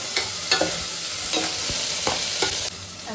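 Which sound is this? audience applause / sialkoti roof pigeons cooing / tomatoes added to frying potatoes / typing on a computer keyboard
tomatoes added to frying potatoes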